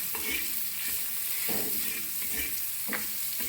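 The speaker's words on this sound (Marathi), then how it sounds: "त्याच्यामध्ये जे बॅटर जे उरलं होतं मसाला भरायचा तो त्याच्यात टाकायचा आणि ते सगळं मिक्स करायचं परत" Leftover masala batter is being stirred into village crabs frying on a tawa, a steady close sizzle marked by several scraping strokes of a spatula, with no talk.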